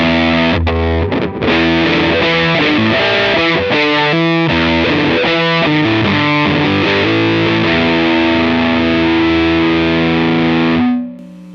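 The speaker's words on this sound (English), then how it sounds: "So that's the fuzz, and there are lots of fuzz pedals in this thing" An electric guitar plays through a fuzz pedal on a Line 6 Helix processor, giving a thick, saturated, sustained tone. Chords ring out loud and continuous for about eleven seconds, then cut off abruptly.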